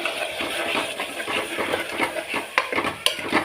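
Metal utensil scraping and clinking against a pan as a thick onion masala is stirred in oil, steady and close, with no voices.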